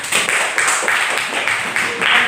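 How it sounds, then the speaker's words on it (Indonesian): A school class claps together on a teacher's cue in a classroom, a dense, bright patter of many hands in short rhythmic bursts lasting a couple of seconds. "Oke, tepuk tangan"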